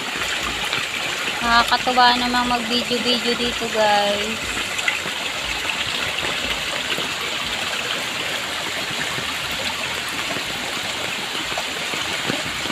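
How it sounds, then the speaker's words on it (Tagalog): A strong stream rushing after rain beside a muddy rainy-season road, a steady loud roaring gush throughout, with someone talking over it briefly at the start. "napakalakas ng tubig dito"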